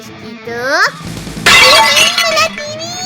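A television smashes apart in a cat cartoon: a sudden, loud, bright burst of shattering glass and breaking debris follows squealing cartoon voices and rings out over about a second.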